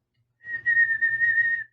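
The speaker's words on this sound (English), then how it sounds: "That's about the closest you can get me a whistle." A single sustained human whistle, steady in pitch and fairly faint, held for just over a second.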